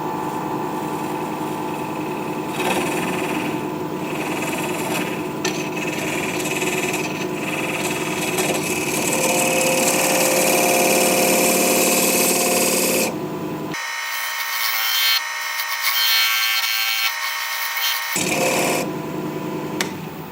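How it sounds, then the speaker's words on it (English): Wood lathe spinning a scrap-wood bowl blank while a recess tool cuts a dovetail on its edge, a loud steady whirring grind with scraping that drops out briefly near the end, then resumes. "Now I just want to use my recess tool to create a dovetail over here on the edge."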